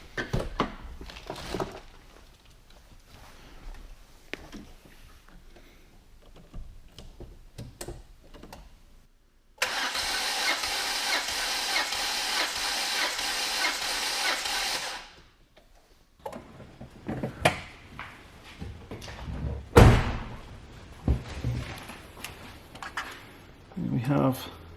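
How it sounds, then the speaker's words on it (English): A 1992 Renault Clio Mk1 1.4 engine cranks over steadily on the starter during a compression test, loud and even for several seconds, between stretches of quiet clicks and handling noises. "Let me turn the engine over."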